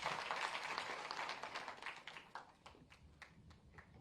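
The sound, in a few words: audience applause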